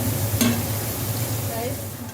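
Pakoras (piyaju) frying in hot oil while being turned and stirred, a soft continuous sizzle with light scraping of the utensil close by.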